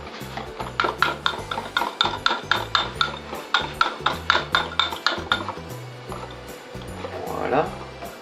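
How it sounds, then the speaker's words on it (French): A spoon stirring a thick preparation in a bowl gives a steady, close series of rhythmic scraping knocks, about two per second, slowing toward the end, while a person talks over it. "Donc mélangez cette préparation"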